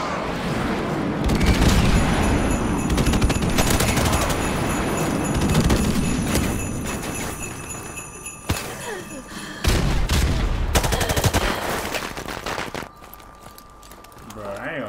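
An airstrike in Modern Warfare Remastered: dense rapid gunfire and heavy booming explosions roll on loudly and almost continuously, with shouted game voice lines over the noise.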